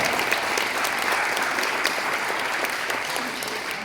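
An audience claps steadily at a senior wrestling event, a dense, even round of applause that stays loud throughout, with a voice briefly audible beneath it.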